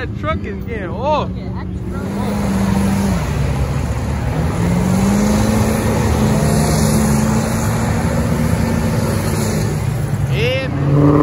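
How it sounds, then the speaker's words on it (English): Truck engine revving and accelerating hard at a large car meet, a loud sustained roar with rising pitch, while people talk and shout nearby. "That truck is getting off."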